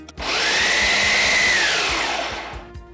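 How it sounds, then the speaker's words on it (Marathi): A kitchen mixer grinder purees tamarind and jaggery water, whirring loudly and steadily close by. The motor pitch rises at start-up, holds, then sags as it winds down near the end. "चिंच गुळाचं जे पाणी आहे हे मिक्सरमध्ये छान याची प्युरी तयार करूयात"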